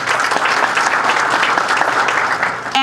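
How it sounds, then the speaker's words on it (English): Audience at a book launch applauds community organizations, a steady dense round of clapping filling the room for a few seconds before cutting off. "they all deserve a round of applause."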